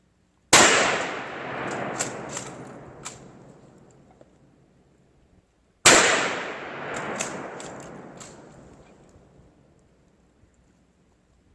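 Two loud Mosin Nagant rifle shots during a penetration test, each a sharp crack followed by a long rolling decay, spaced about five seconds apart with no talking.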